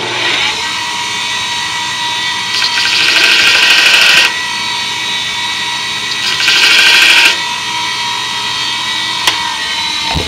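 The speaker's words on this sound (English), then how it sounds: "go ahead and start it up, and very lightly and quickly grind off that black mark" A self-centering coin punch is lightly ground to remove a black mark, as a motorized grinder hums loudly and close in two short bursts of harsh contact with steady running between them.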